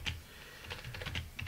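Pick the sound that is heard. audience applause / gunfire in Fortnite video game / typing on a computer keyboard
typing on a computer keyboard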